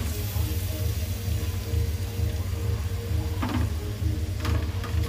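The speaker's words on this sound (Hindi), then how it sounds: "प्याज को फ्राई कर लेते हैं" Onions frying in oil in a pot on a gas stove, a steady close sizzle running throughout with a couple of brief scraping clinks near the end.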